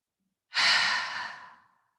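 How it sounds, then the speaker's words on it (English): One slow, deep breath drawn in through the nose and let out again during a yoga practice, a soft airy rush that swells and gradually fades, close and alone. "Breathe in through the nose, exaggerate the inhale. Exhale with ease."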